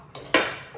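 A metal ladle clinks against a tin of ghee and scrapes as it scoops, two sharp close metallic hits followed by a short ringing scrape.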